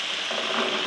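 Boiled white chickpeas sizzle and fry in a pan of cooked masala for chole, a steady bright hiss of hot oil with faint stirring, close and continuous.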